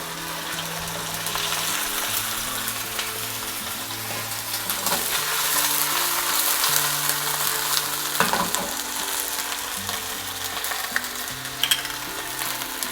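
Broccoli rabe fries in a hot pan with a steady, dense sizzle and crackle, joined by occasional stirring scrapes, with no talking over it.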